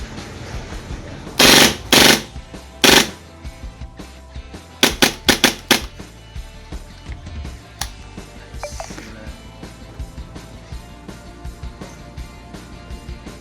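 A KSC MP9 gas blowback airsoft rifle fires loud full-auto bursts, several short rapid strings of shots with sharp bolt clatter, followed by quieter handling noise and background sound.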